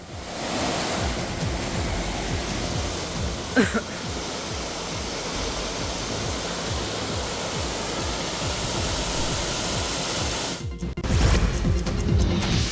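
The Manikpura mini waterfall in the Kunchavaram forest of Chincholi taluk, Kalaburagi, runs full after rain with a loud, steady close-up roar of rushing water. A brief knock comes partway through, and handling noise rises at the end.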